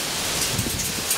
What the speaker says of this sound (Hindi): ओले गिर रहे हैं ना